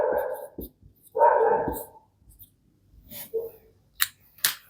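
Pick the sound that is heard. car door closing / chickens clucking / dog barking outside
dog barking outside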